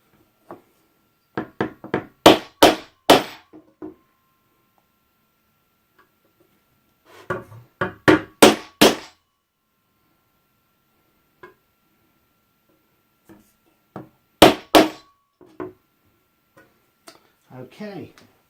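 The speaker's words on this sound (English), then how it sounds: "I'm just going to make them a bit more prominent with the bradawl" A bradawl taps on a Pedaltrain Classic Jr. pedalboard to mark holes for drilling. Sharp, close knocks come in three quick clusters separated by pauses.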